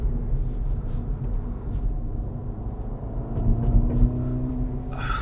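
Acura Integra Type S, a front-wheel-drive car with 320 horsepower, driving and cornering on back roads, heard as a steady low engine and road rumble from inside the cabin with no talk.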